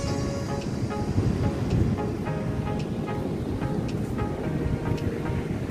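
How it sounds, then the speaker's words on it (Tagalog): Ocean waves wash continuously onto a clean beach shore with coral at a seaside resort, a steady broadband roar of surf with some wind buffeting on the microphone, no talking. "ang saya ng alo na naglalaro sa dalampasigan"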